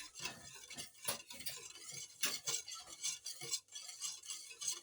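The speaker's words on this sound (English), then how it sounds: "Whisk that. Add milk to the eggs." Eggs and milk being whisked in a bowl, a quick irregular run of close, light clicks and scrapes of the whisk against the sides, fairly quiet and with no talking.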